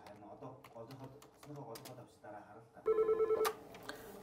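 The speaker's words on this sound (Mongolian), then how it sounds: "108 төргийн тусламжийн утас тасралтгүй дуугарч байлаа" A telephone rings at a child helpline, a short loud electronic ring bursting in near the end after a stretch of talk and background music, then cutting off.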